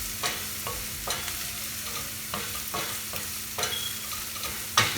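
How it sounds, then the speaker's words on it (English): Onions frying on high heat in a pan for akuri masala, a constant close sizzle punctuated by repeated scraping stirs of a spatula, with no voices. "now you got to cook this onion really well"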